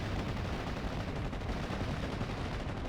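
Gunfire from Fallschirmjäger infantry in Steel Division 44, a dense continuous rattle of rifle and machine-gun shots with booming battle noise throughout.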